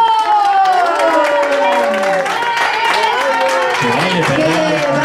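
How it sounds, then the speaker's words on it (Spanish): Wedding guests applaud the couple on the dance floor, with clapping mixed into loud cheering, whooping and shouting voices from a lively crowd throughout. "¡Fuerte el aplauso!"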